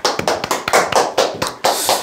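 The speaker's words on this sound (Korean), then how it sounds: "네, 박수 한번 치시죠." Hands clapping in a short, close run of about nine sharp, evenly spaced slaps from a small audience at a seminar, with no talking.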